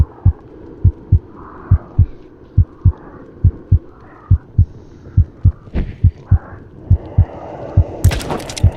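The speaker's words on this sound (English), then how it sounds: "the 1 health heartbeat is killing me" A low-health heartbeat warning from the PSVR game In Death pulses loudly and steadily in paired thumps, about two per second, over a faint background hum, with brief crackling near the end.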